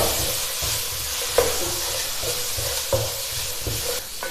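Spice powders such as pepper powder and garam masala being stirred in a frying pan, with a regular rhythm of close scraping strokes over a constant low sizzle.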